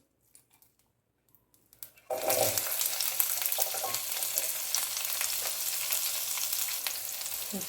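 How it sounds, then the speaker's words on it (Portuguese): Onion sautéing in hot oil in an electric pot for caponata: a few faint taps, then a loud, steady sizzle bursts in about two seconds along and keeps crackling densely to the end, with no talking. "Eu vou deixar dar uma esquentada e começar a colocar os temperos, tá? Para dar uma refogada. Vou colocar a cebola."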